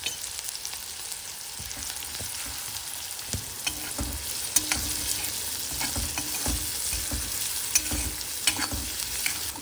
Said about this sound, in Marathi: तर हा कांदा आपण थोडा परतून घेणार